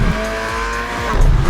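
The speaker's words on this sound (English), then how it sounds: "you can hear the exhaust brapping on the overrun" Skoda Octavia RS exhaust on the overrun during hard driving on a twisty road with traction control switched off: a loud, close, steady engine and exhaust roar with crackling burble and a brief tire scrub as it eases off.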